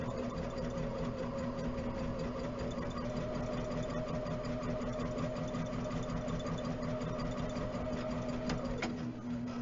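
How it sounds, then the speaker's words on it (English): A sewing machine runs a steady straight stitch through quilt pieces at a 2.5 stitch length, a continuous close mechanical whir and hum that holds an even pace for the whole stretch before easing off near the end. "Make sure my ends match and just keep sewing."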